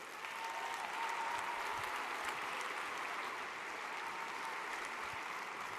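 A large crowd at a startup competition finals applauds in a steady, dense wash of clapping that holds evenly throughout.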